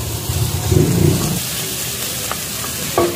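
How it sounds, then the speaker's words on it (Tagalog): Garlic and onions sautéing in a pan, a dense sizzling hiss with low clattering stirs in the first half and a few sharper scrapes near the end, no talk. "sibuyas, gisahin lang natin maigi to"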